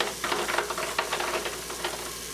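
Bacon fries in the bottom of an Instant Pot, a faint close crackling sizzle with scattered pops and light stirring scrapes over a short stretch, no voices.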